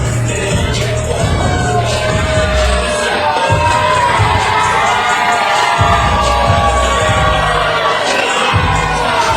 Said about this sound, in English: The crowd excited here on their feet.